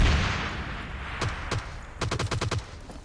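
Gunfire and a grenade in the battle-royale game PUBG Lite. Two single shots ring out, then a rapid burst of about seven shots fired in quick succession, loud and close over a steady hissing game ambience.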